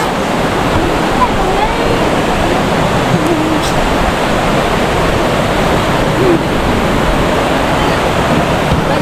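A river at Karanglan rushes loud and steady, a continuous broadband roar of flowing water close by with no breaks.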